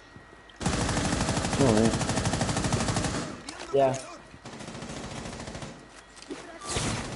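Rapid automatic gunfire in a video game blasts in a long dense burst, then returns in shorter volleys amid game effects, with someone speaking briefly over it.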